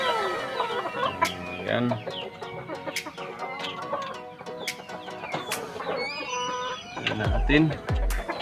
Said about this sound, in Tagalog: Ito mga chicken ng ating breeders.